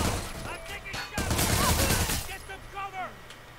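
Rapid gunfire from Watch Dogs 2 rattles in a dense burst, loud and near, mixed with game effects and tonal in-game sounds.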